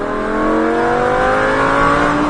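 A Lamborghini Huracan on a race circuit accelerates hard, its engine note climbing steadily and loudly through the gear with dense rising harmonics, close and continuous for about two seconds.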